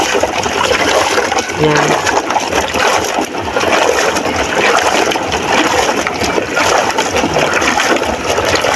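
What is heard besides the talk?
water splashing while washing lobster catch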